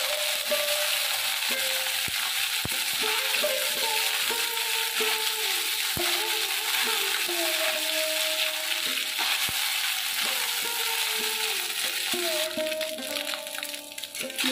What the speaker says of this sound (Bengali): মোরলা মাছগুলো ভাজা হয়ে গেছে